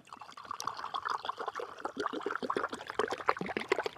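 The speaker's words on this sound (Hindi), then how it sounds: "ये पानी हम भरते हैं इसके अंदर" Water is poured into a container of soil, a close, continuous trickle and splash with bubbling gurgles that goes on throughout at a steady, moderate loudness.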